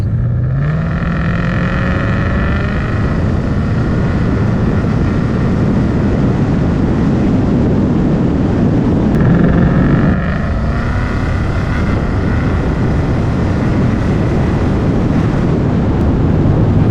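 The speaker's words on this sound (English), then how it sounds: "It's just like a lot of wind noise, and definitely you can hear the supercharger." Steady, loud cabin drone from a 2020 Mustang GT with an XForce 3-inch catback on the move, heavy wind and road rush with a rising engine tone and a high whine swelling during acceleration.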